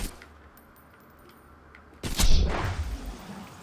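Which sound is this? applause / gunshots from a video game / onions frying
gunshots from a video game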